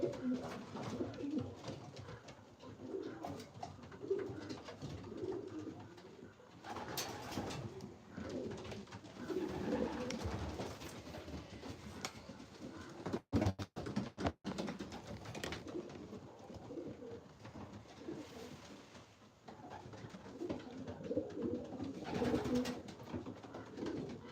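Several racing pigeons coo in low, rolling phrases that repeat throughout, with rustling, wing flutters and occasional knocks in a noisy loft.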